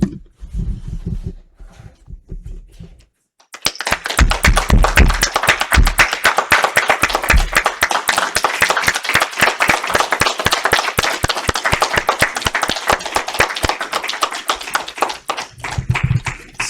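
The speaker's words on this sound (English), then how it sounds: "Let's stand and give them an applause." A congregation at a Sunday church service stands and claps together: a few seconds of talk, then dense, sustained hand-clapping that fills the room for about thirteen seconds before fading.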